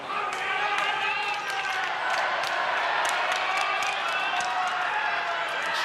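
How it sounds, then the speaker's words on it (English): Crowd cheering and calling out at a 25 m short-course swimming championship in Melbourne, a broad steady roar of voices filling the arena with scattered claps and shouts, continuous and loud throughout. "the crowd starts to be a little vocal"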